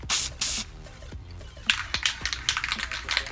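Two short bursts of VHT NightShades aerosol tint spray hiss on a Challenger side marker, then a run of light clicks and taps; no talking.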